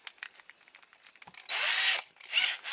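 Power drill spinning a small part held in its chuck, during restoration of a Corgi Toys Fiat 1800 model; a short, loud whine bursts in after soft clicks and handling, then a second run starts.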